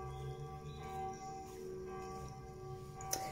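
Church bells ring faintly in the distance, a soft sustained tone with lingering overtones under a steady background hum, with one brief bright strike near the end.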